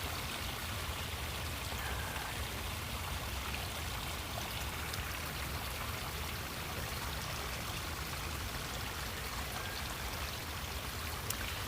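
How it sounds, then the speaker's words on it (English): A small artificial waterfall at an outdoor fishing spot, a steady rushing, splashing flow of water that stays even and fairly soft the whole time with no talk. "The sound of that little fake waterfall behind me is kind of relaxing."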